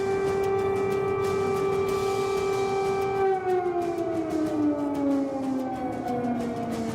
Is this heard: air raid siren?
yes